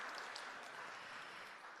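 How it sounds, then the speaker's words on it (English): An audience at an evening rally for justice for Asian women in San Francisco applauds the MC, a steady, dense wash of many hands clapping, soft and somewhat distant, with no speech over it. "a big applause for our awesome MC tonight"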